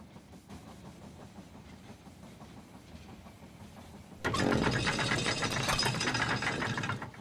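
A train pulls into a station in the strategy game They Are Billions, with a low rumble that swells abruptly into loud rattling and mechanical clatter, continuing steadily to the end.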